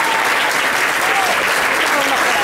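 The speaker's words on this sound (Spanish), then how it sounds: "Un aplauso para ella, por favor." A crowd at a manga convention publisher talk applauds the editor, loud, close clapping from many hands with a voice faintly mixed in beneath.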